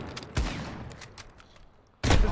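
Gunfire in Call of Duty Modern Warfare, a loud sniper-like shot near the start and another sharp blast at the end, with a fading echo between them.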